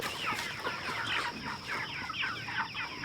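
Broiler chickens on a farm, a flock of about 150, clucking in a continuous overlapping chorus of short calls close to the listener, moderately loud, with no voices.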